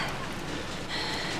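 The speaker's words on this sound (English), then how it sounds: "And it's raining." Steady rain falls throughout as a dense, even hiss with no distinct drops standing out, constant and fairly close, with no voices heard.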